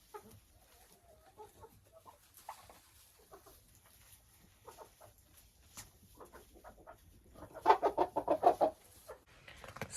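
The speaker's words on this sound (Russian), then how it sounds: "Следующий вольер, это у меня старые куры." Old hens in their enclosure give soft scattered clucks, then a burst of louder rapid clucking near the end, fairly close in a quiet setting.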